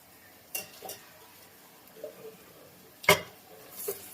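Washed chicken goes into a pot of cashew curry, making a few sharp clinks and clatters of metal and utensils against the pot, with softer knocks in between, in an otherwise quiet kitchen.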